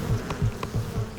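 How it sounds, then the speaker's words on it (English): Worker bees flying close by, their buzzing carried on a steady drone that swells and fades in a few quick pulses over about a second, with no voices. "These worker bees spend their entire lives traveling from their hive to flowers, collecting pollen, and flying back again."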